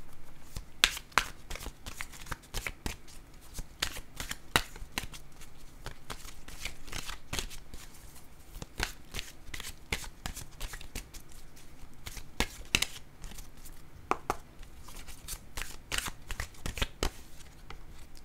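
Tarot cards shuffled up close: a quiet, continuous run of crisp riffling and snapping card flicks, irregular in rhythm and with no talking.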